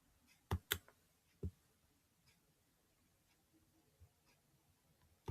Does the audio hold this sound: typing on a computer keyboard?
yes